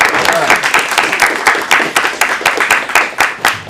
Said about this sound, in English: All right, give them another round of applause.